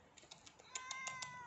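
A kitten gives a quick series of thin, high meows, about eight short cries in a little over a second. The cries come close and fairly soft, growing slightly stronger toward the end, with no talk.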